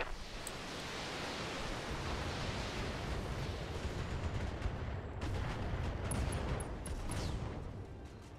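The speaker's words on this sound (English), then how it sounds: "Ammo explosion. Mech destroyed." In the BattleTech video game, a mech's ammunition explodes amid weapons fire, producing a dense, continuous roar of blasts and gunfire that fills the whole stretch, with sharper crackles near the end.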